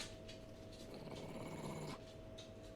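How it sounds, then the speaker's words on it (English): An angry dog growls in the Tales of Vesperia video game: a low, steady rumbling snarl that stays quiet and continuous for the whole stretch, with no voices. "Ooh, angry pup."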